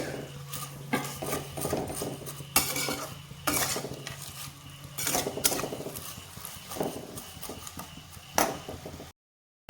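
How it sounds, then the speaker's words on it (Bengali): Semai vermicelli stirred in a pan as sugared milk is added, with repeated scraping and clinking of a spoon against the pan over a faint sizzle, uneven strokes throughout. "দুধ তো একটু একটু করে আমার দিতে হবে আর নাড়িয়ে চাড়িয়ে দিতে হবে"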